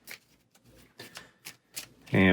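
Aeons End supply cards being shuffled by hand: several short papery riffles spaced apart, then a louder, close burst of shuffling at the end.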